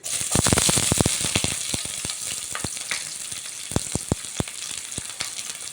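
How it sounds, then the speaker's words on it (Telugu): Onions and green chillies fry in well-heated oil, a loud, close, steady sizzle with sharp crackling pops scattered throughout and no talking. "పచ్చిమిర్చి, కొంచెం లైట్ పింక్ షేడ్ వచ్చేదాకా వేయించుకుందాం."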